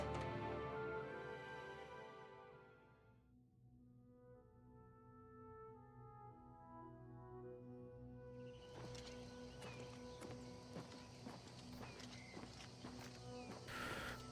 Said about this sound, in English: My lovely horse.